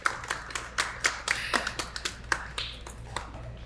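A small studio audience on a dating show claps for a male contestant in uneven, scattered bursts, individual hand claps standing out rather than merging into full applause.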